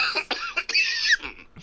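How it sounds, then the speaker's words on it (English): Several harsh coughs in quick succession, close and loud, with a rasping throat-clearing quality between bursts. "Listen to you coughing and hacking and wheezing."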